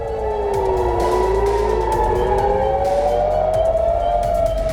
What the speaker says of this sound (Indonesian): Sirine meraung di kota-kota Israel.